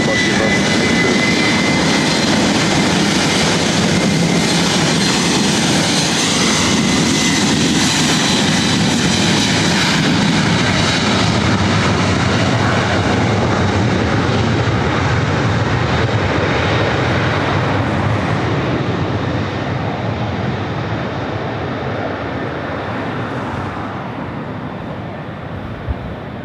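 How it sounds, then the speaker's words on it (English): Delta Airlines 767-300ER heavy jet taking off from runway 24 right at LAX bound for JFK, a loud sustained engine roar that holds steady and slowly fades as it climbs away. "This is Delta Airlines 991 taking off to JFK"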